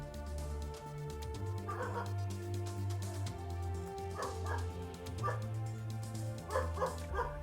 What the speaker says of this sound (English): Barking doggo.